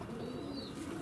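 Low, soft cooing of Mozdok and Leninakan pigeons in a loft, a steady murmuring drone close by with a faint higher chirp layered over it.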